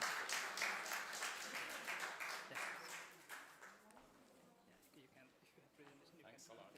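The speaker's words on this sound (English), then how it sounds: "May we all have a round of applause to welcome him on the stage" Audience applause welcomes a speaker to the stage at the Nepal UK Economic Partnership Forum, a steady round of hand claps in a hall that tapers off after a few seconds into quieter room noise.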